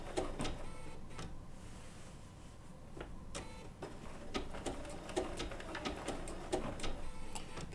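A Bernina B790 PRO sewing machine with a 20C open toe foot stitches wool applique onto backing fabric, a soft, quick, rhythmic ticking and whirring with irregular needle clicks, close and fairly quiet, with no talk over it.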